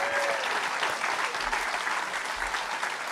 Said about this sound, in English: Let's hear a round of applause for these 7 picks.